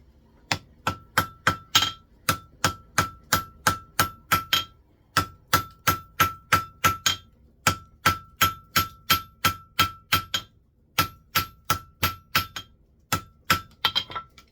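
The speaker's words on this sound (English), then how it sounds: "Now we'll go for the second weld." Hammer blows on an anvil while forge welding three leaf dividers, a long run of steady, evenly spaced metallic strikes with clear ringing tones and only brief pauses, close and loud with no speech.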